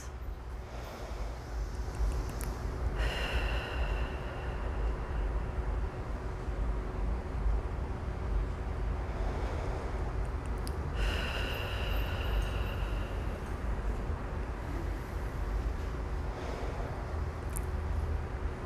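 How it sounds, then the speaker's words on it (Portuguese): Slow, deep breaths are drawn in and let out during a guided relaxation breathing exercise, two long swells of airy breath rising over a steady background hiss, with no talking. "Primeiramente, façam 3 respirações bem longas"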